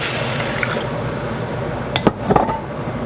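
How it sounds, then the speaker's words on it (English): A litre of water is poured into a cooking pot as a steady liquid rush, with a few brief splashy clinks near the end and no talk. "because we're making 8 portions of this, a litre of water."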